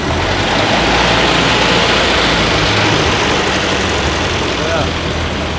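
A 1930 Ford Model A sedan engine runs at a rough, loud idle with a steady low rumble throughout, recorded close up with no talking.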